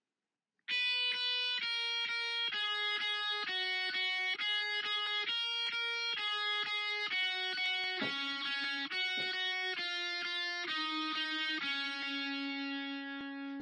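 An electric guitar plays a clean single-note line, each note picked twice in an even rhythm, bright sustained tones stepping through a melody up close, with no talking.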